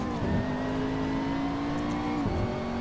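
Engine of a McLaren MP4-12C GT3 race car in Assetto Corsa: a steady, loud droning hum held at constant revs, with a brief dip and recovery near the end, and no talking.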